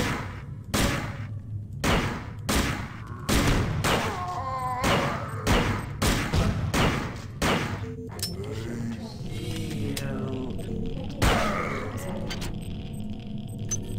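Pistol shots from System Shock 2, a rapid run of sharp, loud bangs at a steady rhythm, followed by quieter game ambience with a warbling, distorted voice.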